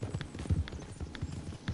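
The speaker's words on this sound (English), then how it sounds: "I really like this thoroughbred horse" A thoroughbred horse's hooves clip-clop in a steady walking rhythm in the Red Dead Redemption video game, soft and fairly quiet throughout with no talk.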